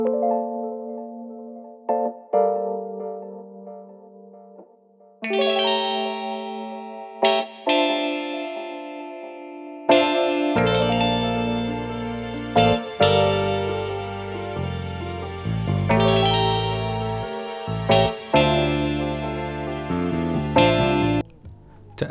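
Mellow Rhodes-style electric piano chords from Arturia software, drenched in reverb, RC20 modulation and EQ, starting sparse and quiet, then joined by deep bass notes as the progression swells.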